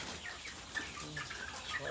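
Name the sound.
chickens clucking at feeding time on a farm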